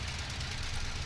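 Small tractor engine in a farming video game, running at a steady low rumble with constant throb, close and continuous, no talk over it.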